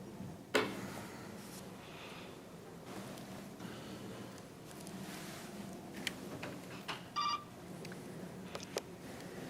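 A phone call is connected during a city council meeting, with a quick cluster of telephone dialing tones and a few clicks and beeps over a faint, steady line hiss.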